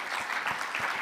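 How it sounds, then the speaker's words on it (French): Conference audience applauding a session in a hall, soft continuous clapping for about a second with a few low thumps, moderately distant and even. "applaudir cette deuxième partie de conférence"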